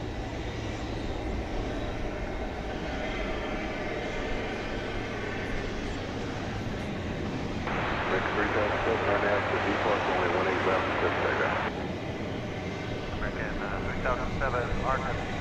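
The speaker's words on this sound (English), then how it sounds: "Very early rotation for this 767 going to Ontario," A Boeing 767 bound for Ontario, California takes off at night from DFW Airport with an early rotation. A steady, distant jet roar swells louder for a few seconds mid-clip and then eases, with someone talking over it throughout.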